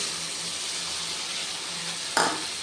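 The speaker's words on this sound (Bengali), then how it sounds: "সর্ষে বাটাটা দিয়ে খুব ভালোভাবে নেড়ে চেড়ে আমি এটা কষাবো" Mushrooms fry in a pan for a dry Bengali bati chorchori as mustard paste, turmeric, cumin and chilli are stirred in, a steady close sizzle with a sharp clink of utensil near the end.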